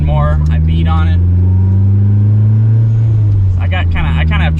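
A turbocharged VTEC car engine drones loudly and steadily while driving, its low hum holding beneath brief bursts of speech at the start and end.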